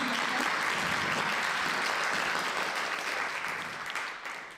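A Protestant parish congregation in Chêne applauding children at an all-ages Palm Sunday service: a continuous, even roar of clapping that slowly fades toward the end.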